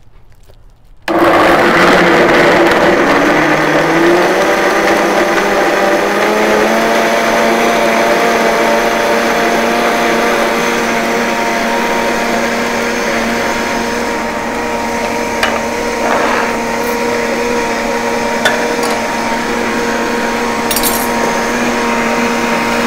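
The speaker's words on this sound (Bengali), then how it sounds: "এখন আমি 2 থেকে 3 মিনিট খুব হাই স্পিডে আমি এটাকে ব্লেন্ড করব।" A blender runs at high speed on soaked almonds with water and a pinch of Himalayan pink salt for almond milk, starting suddenly and then holding a loud, steady whine with its pitch shifting slightly as the mix smooths out.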